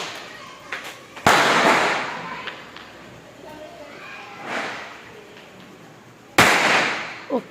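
Firecrackers set off for Dev Diwali: two sharp, loud bangs several seconds apart, close by, with voices talking in between.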